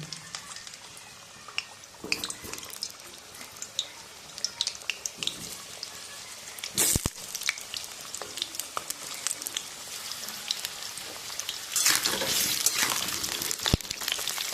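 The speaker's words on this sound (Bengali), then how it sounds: "তেলটা গরম হয়ে গেছে, আলুগুলো ভেজে নেব।" Potatoes frying in hot oil for a Bengali mutton curry, giving a soft, steady sizzle full of scattered pops and crackles that grows louder and busier toward the end, with no talking.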